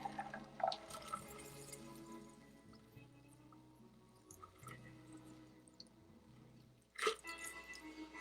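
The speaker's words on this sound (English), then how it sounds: "I need to strain this. There's my strainer." Clarified milk punch being strained through a strainer, with faint irregular drips and small liquid trickles against a quiet room hum, ending in a sharper clink near the end.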